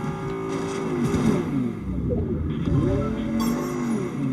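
A car engine driving in the video game Fortnite, a continuous droning motor whose pitch sweeps up and down as it speeds and slows, steady and fairly loud throughout.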